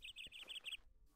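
Birds in the Minecraft video game chirp in a quick series of six bright, high tweets, followed by a brief quiet pause, all heard at low volume.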